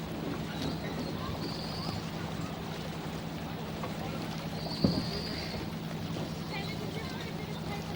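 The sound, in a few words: boats heading out to the regatta start line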